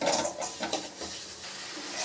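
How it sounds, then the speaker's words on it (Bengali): Spice paste of ginger, cumin, onion and garlic sautéing in a pan for a jackfruit and prawn dish, with soft sizzling and a few scraping stirs of a utensil against the pan, close and fairly quiet. "সব কিছু দিয়ে আমি মশলাটাকে কষিয়ে নিচ্ছি"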